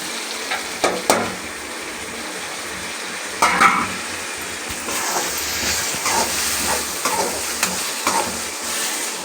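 Tomatoes and garlic fry in a pot for a village-style fish curry, a steady close sizzle and hiss broken by several scraping stirs of the spoon, with no talking.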